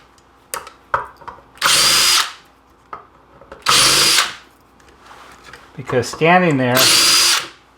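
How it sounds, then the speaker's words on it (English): A screw gun backs screws out of a lightning-damaged NuTone IMA4406 intercom master station in three loud whirring bursts of about a second each. Small clicks and handling noises fall between the bursts, and a voice speaks briefly. "the screw gun is by far the best way to do this"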